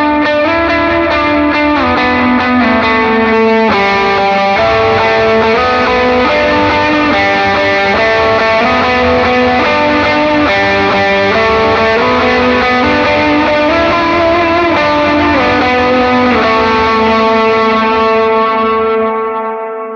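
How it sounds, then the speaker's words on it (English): Electric guitar played through Timmy and 808 overdrive pedals with reverb and delay: loud, sustained distorted chords shifting steadily for twenty seconds, then ringing out at the end, with no talk. "So here's that kind of first drive sound into the bigger one."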